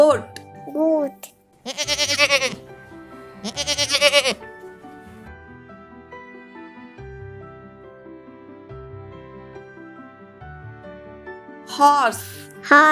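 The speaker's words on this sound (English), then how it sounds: "Goat. Goat." Two loud, wavering goat bleats sound close by, followed by gentle background music, with another bleat returning near the end.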